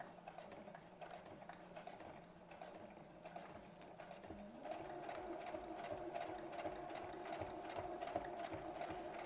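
A sewing machine stitches a belt bag made from recycled fabric, a steady, faint mechanical whirr that runs continuously and grows slightly louder partway through.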